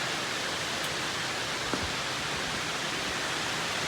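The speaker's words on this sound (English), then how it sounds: "Sorry about the noise, it's raining here." Steady rain falling outdoors, a dense continuous hiss of drops filling the background at an even level with no pauses, recorded near a garage during a rebuild of a 1979 twin-turbo Trans Am.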